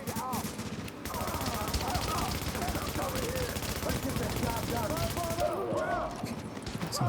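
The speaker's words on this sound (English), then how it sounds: "Some shooting." Rapid bursts of gunfire crackle steadily throughout a dense firefight, with voices and shouting mixed in under the shooting.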